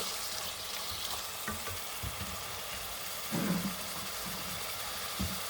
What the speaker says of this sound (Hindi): थोड़ा सा अच्छे से हम इसको भून लेंगे